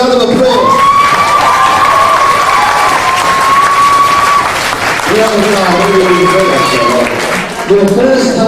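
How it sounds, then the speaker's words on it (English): Loud applause and cheering from an audience at a children's stage play, a steady wash of clapping with whoops and children's shouts rising over it, voices calling out through the crowd noise. "Masha, give yourself a round of applause."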